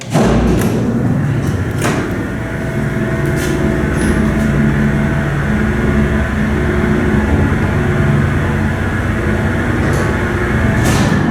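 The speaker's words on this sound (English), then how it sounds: "you get to ride on this antique Salem elevator. Which has an epic motor." An antique Salem elevator motor runs steadily through a ride, with a loud, continuous low rumble and hum, occasional thumps and clunks of the car, and no talking.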